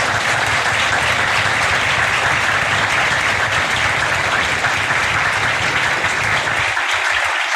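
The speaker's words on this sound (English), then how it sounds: "a big round of applause for our speakers" An audience applauds speakers at a Supreme Court panel event, dense sustained clapping from a full room that stays loud and even before starting to thin at the very end.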